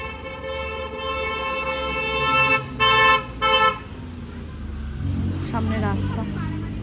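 Busy road traffic with horns from an overlooking house: loud sustained tonal honks, including a long blast and several short stuttering bursts, over a low rumble of passing vehicles, with a voice talking briefly near the end.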